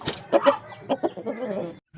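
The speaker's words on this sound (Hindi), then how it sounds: "हो सकता है ये छोटे वाले चूज़े शोर कर रहे हों" Chickens cluck and chatter in a cage, a run of short, close, irregular calls with brief squawks, then a sudden stop near the end.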